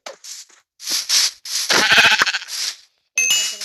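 A Minecraft sheep bleats several times in quick succession, loud and close, with a short electronic chime near the end.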